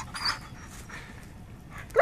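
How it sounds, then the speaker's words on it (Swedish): A young male Karelian bear dog, about a year and five months old, during a moose hunt; faint panting and soft vocal sounds from the dog, a little distant, with a brief louder yelp or bark at the very end. "Ståndskall."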